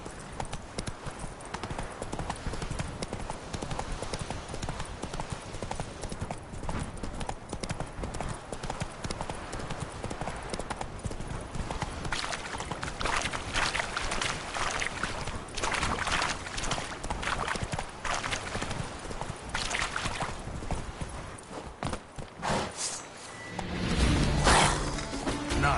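Horse hooves galloping in a PS4 video game, a fast, continuous clip-clop rhythm that runs loud and steady for the whole stretch, with a brief sharper burst near the end.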